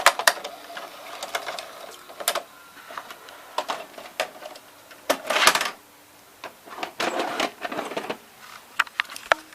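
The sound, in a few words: GoVideo dual deck VCR ejecting a tape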